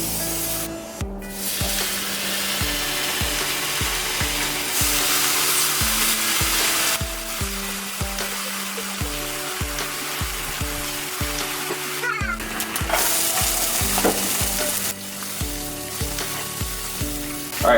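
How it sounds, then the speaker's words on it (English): Chopped onion and turkey bacon sizzling steadily in a hot skillet for an omelet, a constant loud frying hiss broken by a few brief stirring or scraping pauses, with no voices. "I'm going to dump the onion in the skillet,"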